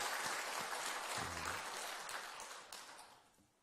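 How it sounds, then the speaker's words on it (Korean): A church congregation applauds its student choir at a Sunday service, a faint, distant spread of clapping that thins and fades over a few seconds, with a brief murmur of voices partway through. "한번 격려 한번 박수 한번 드립시다."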